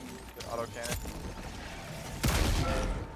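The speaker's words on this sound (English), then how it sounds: "Good auto cannon." Autocannon fire in the video game Helldivers 2, heavy booming shots bursting out amid chaotic combat noise, with a loud burst in the second half, while players shout over it.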